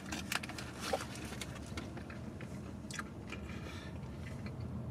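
Close, soft crunching and chewing of a Taco Bell Double Stuffed Grilled Cheese Burrito, with a few crisp bites early on against a quiet room.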